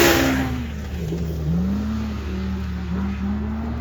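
A Pro R 4 off-road vehicle accelerating hard on a hot lap, its engine revving loudly and climbing and dipping in pitch through gear changes, close and alone.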